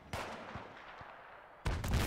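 Heavy tank cannon blasts in the video game Battlefield 3, a loud boom with a rumbling tail followed by another powerful, close explosion near the end, amid distant gunfire.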